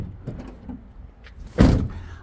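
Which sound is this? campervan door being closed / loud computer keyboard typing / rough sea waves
campervan door being closed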